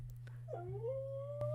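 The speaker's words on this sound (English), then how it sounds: "huskies are very vocal dogs" A husky gives a single faint rising, wavering howl lasting about a second over a steady low hum, with no talking.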